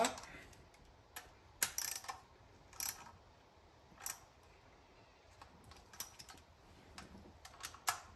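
Nuts on an Edelbrock Performer Series carburetor being tightened gently in a cross pattern by hand tool, faint scattered clicks and ratcheting ticks spaced irregularly over a quiet room background.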